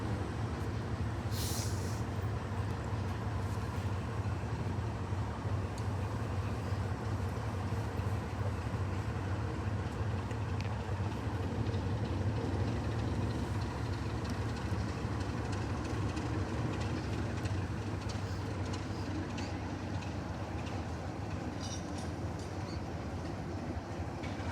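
A cross-country diesel train departs northbound on a main line near the South Devon Railway, its engine droning steadily at moderate distance with a long, even rumble and a brief high squeal near the start.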